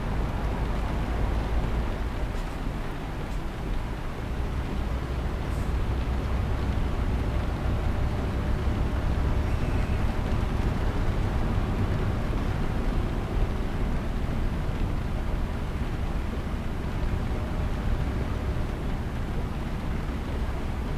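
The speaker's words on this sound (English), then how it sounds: "rain's way too loud compared to the engine" In a driving video game, heavy rain hisses loud and constant for the full stretch, nearly burying a low, steady vehicle engine rumble beneath it.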